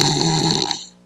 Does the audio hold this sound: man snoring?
yes